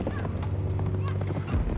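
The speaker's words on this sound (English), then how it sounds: "The Navajo Nation has a lot of feral horses." Feral horses on the Navajo Nation gallop during a roundup, a rapid patter of hoofbeats close by with a whinnying neigh rising over it and voices mixed in.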